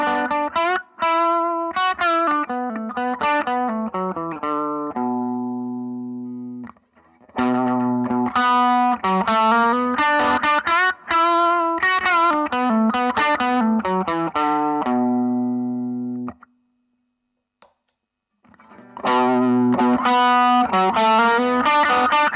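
A distorted electric guitar riff plays through a Vox MV50 amp with an effects pedal, chugging repeated notes and held chords in loud phrases separated by brief pauses.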